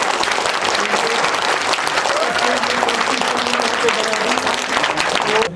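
An audience at a school Qirat and Naat competition claps steadily for a student, a dense, sustained round of applause heard from within the hall.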